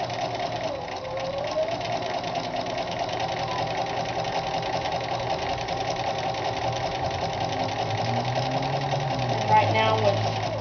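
Sewing machine running steadily as it stitches fabric curves over pins for a head covering veil, a close continuous mechanical whir and hum with a person talking over it.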